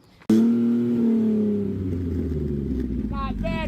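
An old Ford Pinto wagon's engine bursts to life abruptly and roars loudly, then settles into a rumbling idle, with a short spoken phrase near the end.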